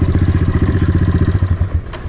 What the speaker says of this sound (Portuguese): Olha o barulho das motos.